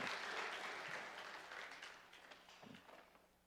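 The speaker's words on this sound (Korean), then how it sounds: "우리 크게 박수로 축하합니다." Church congregation applause after a baptism, loud at first and gradually tapering off, with a few scattered claps lingering near the end.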